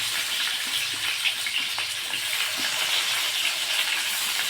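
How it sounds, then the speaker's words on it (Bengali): Chopped onion frying in hot oil with bay leaf and whole cumin for a Bengali goat curry, a steady crackling sizzle with light stirring scrapes, near and continuous, no voices. "পেঁয়াজটাও ভেজে নিব"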